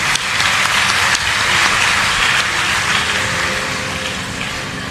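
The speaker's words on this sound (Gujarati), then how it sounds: "એકવાર ખૂબ તાળીઓથી વધાવીએ" An audience at a devotional gathering applauds loudly and steadily, a dense wash of clapping that lasts throughout and only eases slightly toward the end, with no voices over it.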